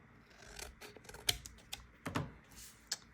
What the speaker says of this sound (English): I want to angle the corners. So I'm just going to cut it across.